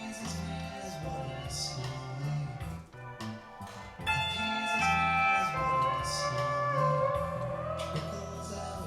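A sliding, sustained pedal steel guitar phrase rises and bends over a steady band backing with drums, notes gliding into each other.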